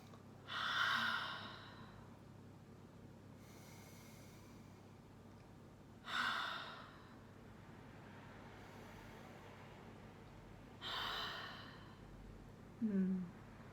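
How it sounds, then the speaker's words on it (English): Three slow, deep breaths after essential oil is rubbed into the palms, each a soft, airy inhale and exhale spaced several seconds apart, close and quiet over a faint low background hum. "just take 3 deep breaths"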